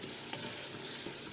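Buckwheat and rice frying in a pan, a soft continuous sizzle with faint stirring scrapes, close and quiet, lasting only a moment with no voices.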